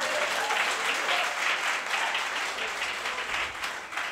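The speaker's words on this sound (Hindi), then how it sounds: "एक बार ताली बजाकर मुझे हिम्मत दें।" Steady, dense applause from an audience at a Hindi poetry recital fills the whole stretch, clapping sustained and evenly loud without any voice over it.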